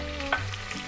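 Small shallots, finely chopped, hit a hot frying pan during cooking of Chettinad mutton kuzhambu, giving a brief close sizzle with a stirring scrape and no talking.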